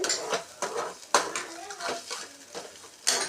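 A spoon scrapes and clanks against a pan while a Burmese-style prawn mixture is stirred, giving a rapid series of close metallic knocks and scrapes with a faint voice underneath.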